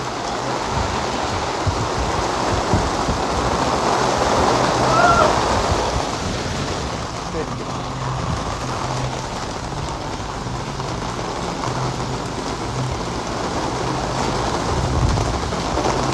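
Steady rain pours down outdoors, a loud, dense, continuous hiss of drops on surfaces that fills the whole stretch without letting up.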